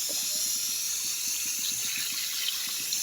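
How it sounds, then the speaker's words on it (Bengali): Water is poured into a pan of hilsa fish head curry with pui shak, potato and taro, a steady close splashing trickle with no voices. "এবার আমি জল দিয়ে দেবো, যে মশলাটা করেছিলাম ওই জলটা, আর একটু জল অ্যাড করবো"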